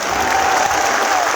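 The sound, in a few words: audience applause at a rally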